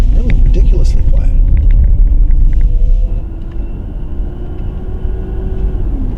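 Inside a Porsche Panamera E-Hybrid on the move, a steady low rumble of tire noise rolls under a faint electric whir, loud and continuous, easing slightly partway through while a voice talks over it.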